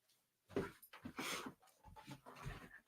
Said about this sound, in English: I have a dog that has separation anxiety